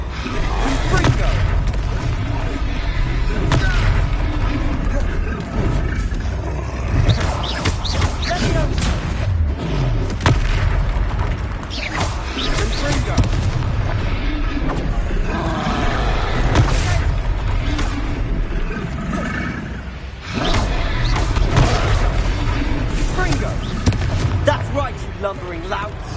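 Confringo fire-spell explosions in Hogwarts Legacy combat, booming bursts that repeat through a dense, continuous game mix with a voice talking over the action.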